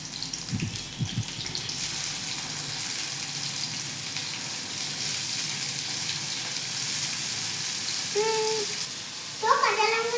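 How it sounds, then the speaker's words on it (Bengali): Onion and tomato frying in a pan for egg pasta in a village kitchen: a steady close hiss and sizzle runs throughout, with a few clinks near the start and short bird-like chirps toward the end. "দেখুন এবার আমি পেঁয়াজটাকে হালকা ভেজে"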